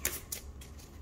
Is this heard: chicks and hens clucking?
no